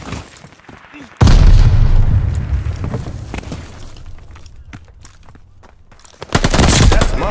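Call of Duty Vanguard multiplayer combat: a heavy grenade blast booms and rumbles away, then loud gunfire erupts near the end amid scattered shots and battlefield clatter.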